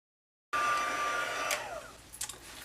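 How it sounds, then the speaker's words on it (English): A heat tool blows hot air steadily to emboss a paper greeting for a Christmas craft. After a brief silence it starts with a sudden hiss and keeps a constant close whir, broken by small shifts near the end. "so let's go ahead and grab our heat tool."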